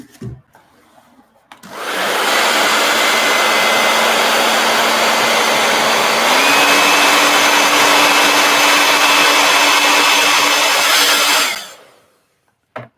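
A heat gun switches on and blows steadily with a loud whooshing fan and whine, stepping up to a higher setting midway, then cuts off and spins down near the end.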